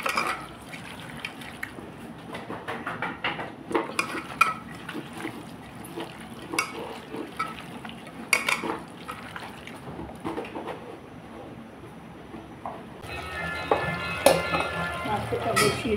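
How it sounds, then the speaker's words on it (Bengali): Chicken fries with cumin and dried chillies in oil, a wet bubbling sizzle with repeated stirring scrapes and knocks that turns louder and more crackling toward the end, close up. "মাংসটাকে খুব ভালো করে কষিয়ে নিচ্ছি।"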